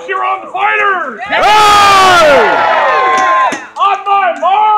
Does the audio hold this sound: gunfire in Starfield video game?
no